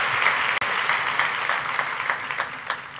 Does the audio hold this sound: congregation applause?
yes